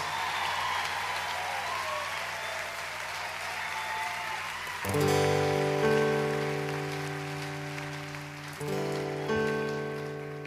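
Concert audience applause for the orchestra at a show, a dense, rain-like wash of clapping from a large crowd that gives way midway to sustained tonal music.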